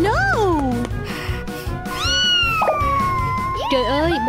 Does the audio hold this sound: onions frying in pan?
no